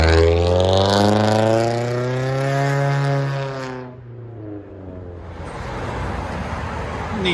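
Nissan Altima 3.5L V6 with a straight-piped exhaust to 4-inch tips revs loudly, the tone sweeping down as revs fall before dropping to a rough, rumbling idle.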